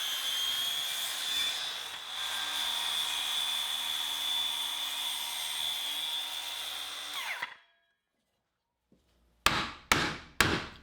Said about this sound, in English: After making the relief cuts, I use a hammer to remove the bulk of the material